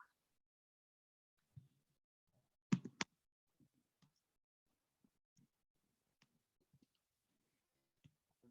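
Sparse, faint clicks and taps of typing on a computer keyboard in a quiet room, irregular single keystrokes spread out with long gaps and a couple of sharper knocks.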